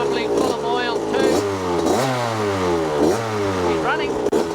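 A 1981 Suzuki RM80X two-stroke motorcycle engine running and being revved, its pitch repeatedly rising and falling in rhythmic bursts, loud and close, with a voice speaking over it.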